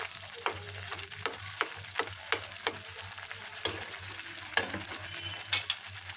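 Mushrooms cook in a pan with a soft background sizzle, punctuated by about a dozen crisp scraping stirs of a spatula at an irregular rhythm, close and quiet, with no talk.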